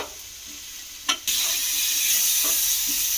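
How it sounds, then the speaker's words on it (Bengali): Tomatoes fry in a pan, a soft sizzle that jumps louder after a sharp clatter of stirring, then holds as a steady hiss with a few faint scrapes. "এটাকে খুব ভালো করে একটু ভেজে ভেজে নেব"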